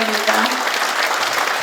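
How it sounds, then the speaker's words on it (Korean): Audience at an agricultural research results conference claps warmly for the provincial governor, a steady, fairly loud round of applause, with a brief tonal voice or hum near the start. "우리 이찬호 경상북도 지사님께 다시 한번 뜨거운 응원의 힘찬 박수 보내주시기 바랍니다"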